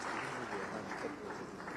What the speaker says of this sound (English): I think our governor deserves a round of applause